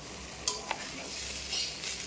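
Rice with sugar being stirred in a kadai over a low flame for Bengali basanti pulao, soft scraping strokes over a gentle sizzle, quiet and close, with no voices.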